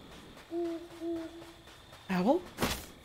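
An owl hoots in the video game Death's Door, with two steady, clear hoots in a row followed by a rising, warbling call. A voice speaks briefly at the end.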